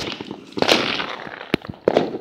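Fireworks being set off outdoors, several sharp pops and bangs at irregular intervals over a steady crackling background, fairly close.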